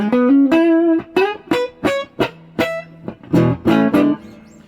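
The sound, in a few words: Tanglewood jazz guitar clean tone through Bad Cat Cub 15R amp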